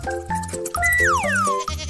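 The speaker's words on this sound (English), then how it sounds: "Goat." A goat-like bleat from a children's animal sound sequence: a few short, nasal bleats followed by a longer, wavering cry whose pitch slides down, close and clear with no talking.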